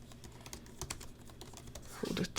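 Rapid typing on a new laptop keyboard, a steady run of light clicks and taps that grows busier and louder toward the end, with no one speaking.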